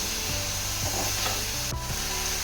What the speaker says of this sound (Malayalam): തക്കാളി ഇട്ടിട്ട് നമുക്ക് നല്ലപോലെ ഒന്ന് മിക്സ് ചെയ്ത് കൊടുക്കാം കേട്ടോ